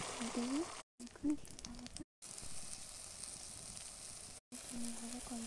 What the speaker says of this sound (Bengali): এবার আমরা ডিম ভাজাটা কড়াই দিয়ে দেবো।